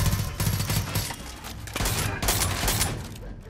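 Dense shotgun gunfire in the video game Far Cry 5, with repeated loud blasts fired close together and overlapping across the whole stretch in a chaotic firefight.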